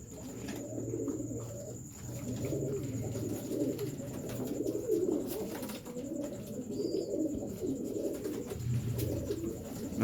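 Pigeons cooing steadily in a loft of breeder birds, low overlapping coos filling the background with a few brief chirps, moderately close and continuous without speech.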